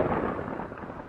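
A storm in a cartoon sends a short, loud, broad rumble of thunder, a dense crackling roar lasting about a second.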